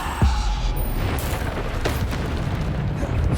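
A Bombarda blast spell from Hogwarts Legacy bursts with a sharp low boom near the start, followed by a dense rumbling, crackling tail that stays loud for several seconds.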